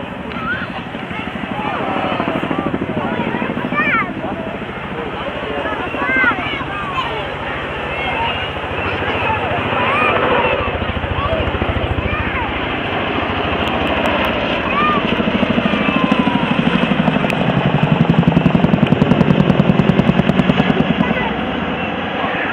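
Loud, continuous thudding drone of a Chinook helicopter flying nearby in an air display, swelling slightly toward the end, with a voice talking over it.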